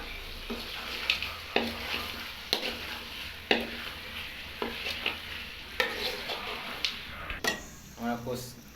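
Spices and cumin powder fry for a chicken curry under a low sizzle, while a spoon scrapes and knocks against the pan in a regular rhythm of distinct strokes. A brief voice or clatter comes near the end.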